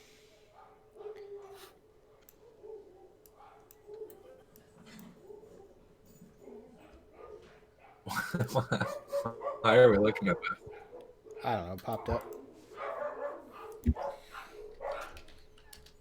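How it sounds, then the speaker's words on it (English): A neighbor's dog and the household's own dogs bark outdoors. Quiet voices chat during the first half, then a burst of repeated, fairly loud barks and yips breaks out and continues irregularly to the end. "Neighbor's dog's going crazy, so my dogs decided to go out and join it because dogs are sociable."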